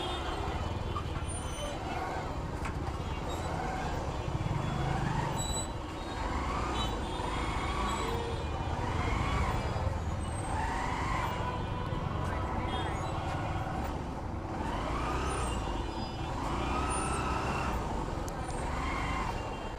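A huge traffic jam heard from a motorcycle in the thick of it: a constant rumble of cars, buses and trucks with a hissing air brake, and someone talking throughout.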